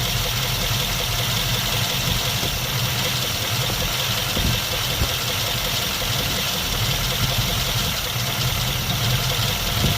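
A 1951 Mercury with straight pipes idles steadily with a rough, loud exhaust throb right up close, running without a break through the whole stretch and with no voices.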